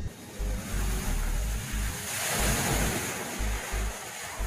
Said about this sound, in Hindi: वहीं ये तस्वीरें पश्चिम बंगाल के दीघा के समुद्र तट की हैं, जहां ऊंची ऊंची लहरें लोगों को अभी से डरा रही हैं।